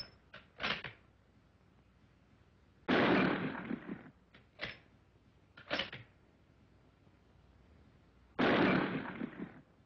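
Rifle shots in a WWII training film, several sharp reports at irregular intervals, two of them louder and fuller with a ringing tail, against a quiet background.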